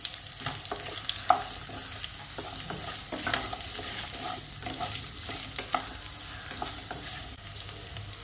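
Chopped onion sautés in a pan over a low flame, with a soft continuous sizzle and repeated close scraping stirs throughout.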